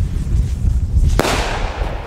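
A single sharp black-powder bang from a Cafferata Mad Dog Thunder salute rocket cracks out over steady gusting wind, followed by a brief fading crackle.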